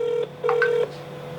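A phone rings during a live stream, two electronic ring tones in quick succession with a steady pitch over a quiet background hum.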